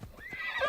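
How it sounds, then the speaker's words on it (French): A horse called in the video game Assassin's Creed Odyssey lets out a short, bright whinny close by, with faint hoof clops beneath, heard alone. "je pourrais appeler mon cheval, je dirais. Il va apparaître derrière moi"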